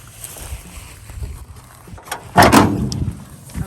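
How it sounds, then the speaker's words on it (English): A custom cab truck door swinging with a soft rattling rustle, followed by a single firm slam close by, then some lingering movement noise. "How's that door work? Really good, did you hear it?"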